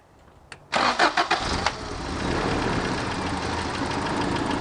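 A Toyota 4Runner engine cranks briefly and catches, with a few loud surging pulses as it fires, then settles into a steady, even idle, close and continuous.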